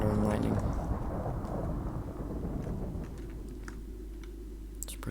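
Thunder rumbles in a Minecraft game with a tornado mod, a broad, heavy roar that fades into a lower sustained rumble with scattered clicks, loud throughout.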